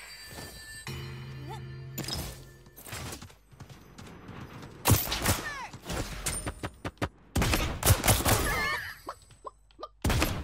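Gunfire and explosive impacts from the Realm Royale video game come as loud, abrupt bursts and rapid shots, mixed with clanks and mechanical game effects, rising in density toward the end.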